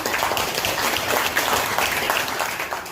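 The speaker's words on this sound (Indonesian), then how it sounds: "kasih tepuk tangan untuk kawan" Classroom students applauding a classmate, a dense, steady wash of many hands clapping close by, sustained evenly throughout with no talk.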